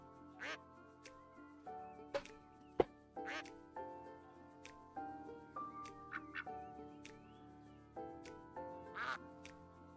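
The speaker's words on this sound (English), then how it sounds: "Is it just quacking?" A cartoonish duck quacks from the video game Lil Guardsman, repeated short quacks scattered over a light musical background, fairly faint and with no speech.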